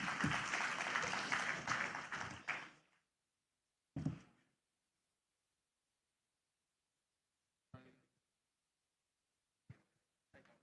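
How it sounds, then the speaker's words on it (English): Conference audience in Bangladesh applauding as a speaker is invited to the stage, a loud dense burst of clapping that fades after about three seconds, followed by a few isolated thumps and knocks in near silence. "A big round of applause for Kamal Bhai."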